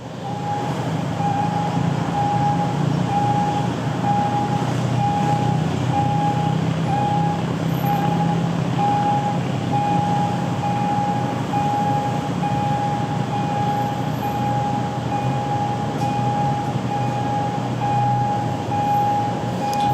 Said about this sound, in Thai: เสียงเครื่องกั้นจุดตัด ถนนสีอยุธยาดังขึ้น